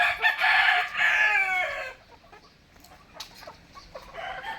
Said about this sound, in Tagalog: Mga ma marami din siyang manok.